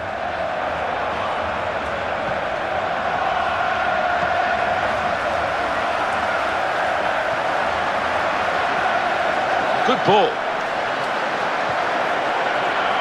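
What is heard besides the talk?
football match crowd cheering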